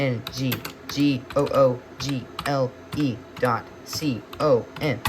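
Someone types with one hand on a computer keyboard, making quick irregular clicks that are heard under continuous talking.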